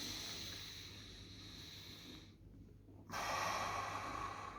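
Slow breathing during abdominal self-massage: a long, hissing breath that stops for a moment, then a stronger, airy inhale or exhale resumes, close and quiet with no talk.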